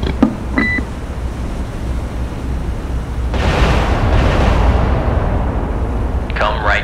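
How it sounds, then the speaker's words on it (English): Heavy main-battery guns of the battleship Iowa fire in a naval combat game, with a broad sustained roar of blasts rolling through the middle of the clip, loud and close, amid electronic beeps and game noise. "Bridge, battery, guns engaging."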